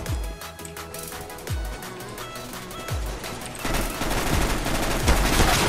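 Rapid bursts of video-game gunfire, loud and continuous with repeated heavy low thumps, growing denser and louder toward the end.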